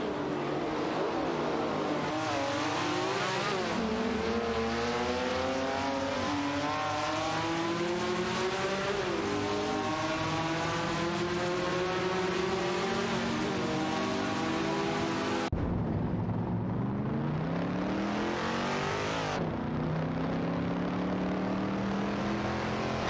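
A Ford GT40 MKI and a Ferrari 330 race closely on track, their engines roaring loud and continuous with pitch rising and falling through gear changes. A sharp cut midway leads to another car's rising whine. No speech.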